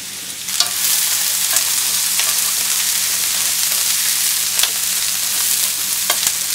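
Carrot, onion, shiitake and bamboo shoots stir-frying in a pan for sweet and sour pork, a loud continuous sizzle up close with periodic clacks of a utensil tossing the vegetables.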